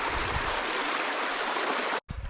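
Water from a small river tributary rushes steadily through bush country, a close, continuous broadband wash that fills the whole clip before breaking off abruptly near the end and briefly resuming.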